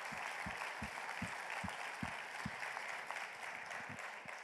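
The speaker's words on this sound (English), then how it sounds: "I think we should just give a big round of applause to all the" A conference audience at a general assembly applauds the session speakers, a dense, even wash of many hands clapping at moderate distance, with a few stronger claps standing out near the start and continuing steadily to the end.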